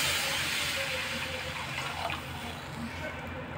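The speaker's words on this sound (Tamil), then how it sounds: "3/2 கப்பு தண்ணி சேர்க்குறேன்." Water pours steadily into a pot of tomato egg soup, a close, continuous rushing splash that eases off slightly toward the end.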